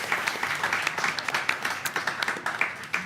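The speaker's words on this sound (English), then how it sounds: "So if you could please give a round of applause to our wonderful speakers," Audience applause for speakers at an investment event, a few seconds of crisp individual claps blending into a modest round of clapping, fairly close and fading slightly.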